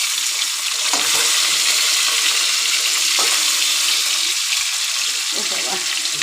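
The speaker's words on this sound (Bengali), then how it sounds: "আস্তে আস্তে ভাজা হোক, শুধু জিরের গুঁড়ো দিয়ে" Rohu fish pieces frying slowly in a pan with only cumin powder, a steady broadband sizzle running throughout with a few soft clinks and stirring touches.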